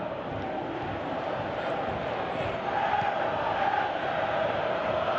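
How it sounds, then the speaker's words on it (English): A stadium crowd reacts during a Copa America football match between Peru and Colombia, a distant, continuous roar of many voices that swells slightly partway through. "you can hear how the crowd are reacting to this too"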